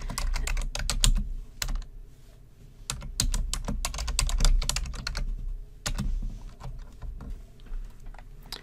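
Computer keyboard being typed on to enter a new file name, quick bursts of clicking keystrokes separated by brief pauses, close and clear with no speech.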